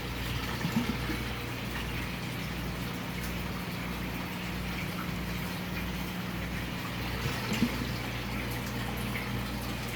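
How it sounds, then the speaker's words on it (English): Water flows steadily through tubing into an aquaponics fish tank, giving a continuous close-up trickling and gurgling wash over a low pump hum, unbroken for the whole stretch with no talking. "the water just comes in through the tubing here on the right and then goes out the fitting at the top"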